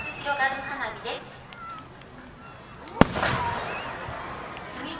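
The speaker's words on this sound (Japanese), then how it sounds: "菊という花火をご覧いただきます。" One sharp burst from a chrysanthemum firework shell, a 4-inch shell at the Isehara fireworks festival, cracks out midway, trailing a brief crackle, while a voice narrates over a low outdoor hum.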